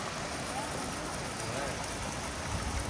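Water runs steadily from a spout at an old village bathing place on Nusa Penida, a dense, unbroken rushing wash that stays even and close throughout, with no pauses.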